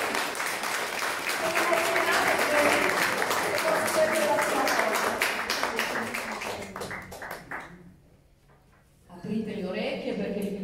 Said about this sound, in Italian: Un applauso per...